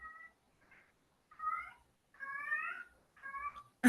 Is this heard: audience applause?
no